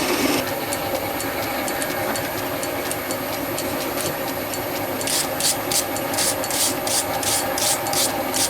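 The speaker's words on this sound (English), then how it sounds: "Nice clean fine file." Fine file stroked lightly across a workpiece during a build, a steady close rasping that runs throughout and turns into short distinct strokes near the end, with no talking.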